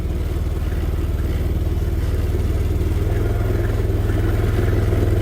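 A Honda Beat Deluxe scooter that is losing power runs close by with a steady buzzing drone whose pitch rises slightly as the throttle is held open.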